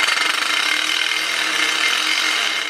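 A power drill whirs loudly and steadily for almost three seconds, tightening bolts on the charge pipe of a BMW M3/M4 with the S55 engine, then cuts off abruptly.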